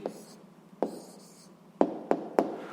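Handwriting an answer during a sixth-grade maths exercise: close, quiet pen strokes on a surface with a few soft scratches and several sharp taps toward the end, no voices.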